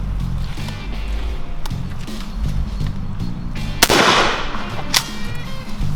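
A shotgun fires steel shot at a thrown clay target outdoors: one sharp loud blast with a short decay, over steady background noise and a fainter knock a second later.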